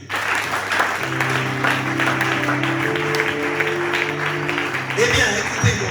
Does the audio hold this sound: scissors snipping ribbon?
no